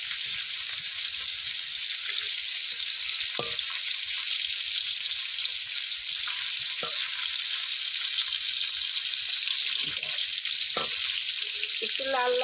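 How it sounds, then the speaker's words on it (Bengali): Snakehead (lata) fish fry in hot oil with a steady, bright sizzle that carries unbroken throughout, with occasional faint knocks and no talking. "আমি সুন্দর করে ভেজে নিই।"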